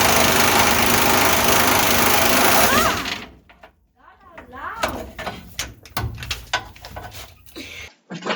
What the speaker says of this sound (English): gonna use the air gun